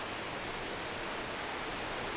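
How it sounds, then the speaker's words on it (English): Steady broadband rush of a waterfall, its falling water hissing continuously and evenly from a distance along an outdoor trail, alone with no voices. "look at that waterfall back there"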